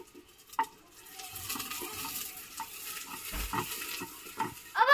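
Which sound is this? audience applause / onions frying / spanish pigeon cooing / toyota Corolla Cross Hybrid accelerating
onions frying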